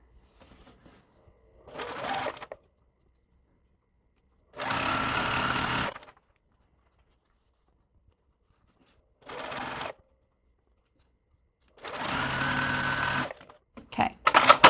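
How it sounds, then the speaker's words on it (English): A sewing machine stitches quilt block rows together for an Evening Hourglass block, running in four separate bursts of steady whirring with quiet pauses between them and a short stuttering start at the end. "I'm just going to sew all the way down"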